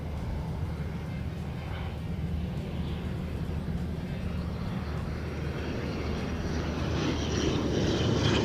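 A Jetstar airliner passes at Christchurch Airport, its engines a steady, broad roar that slowly grows louder toward the end, heard from a distance outdoors.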